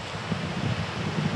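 Light breeze blowing outdoors in Aleksotas, a soft steady rushing of wind with low buffeting against the microphone, no talk.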